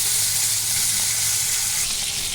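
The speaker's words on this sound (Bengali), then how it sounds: "এবার লাল লাল করে বেশি ভেজে নেব।" Koi fish fry in hot oil in a pan for a koi fish curry with potato and cauliflower, with a continuous loud, even sizzle and no voices.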